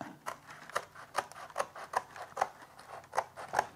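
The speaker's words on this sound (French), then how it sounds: "avec une paire de ciseaux, ça va vraiment tout seul" A pair of scissors cuts a sheet of wood veneer in quick repeated snips, about ten crisp close strokes in a steady rhythm, with no talking.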